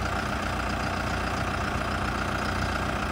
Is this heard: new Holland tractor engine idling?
yes